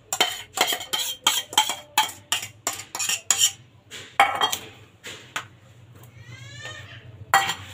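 Vegetables including carrots being stirred in a pan with a utensil, a rapid series of sharp scraping clinks against the metal, then a pause and a final clink.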